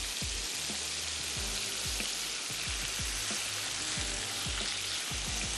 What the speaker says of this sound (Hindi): हल्का सा फ्राई करेंगे और हमने इनको रख देना है एक तरफ।